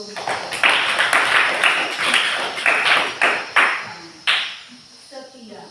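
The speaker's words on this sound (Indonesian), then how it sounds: "Tepuk tangan dulu." Students in an Indonesian Catholic religion class clap their hands together in a series of sharp, rhythmic bursts that are fairly loud and close, with voices mixed in.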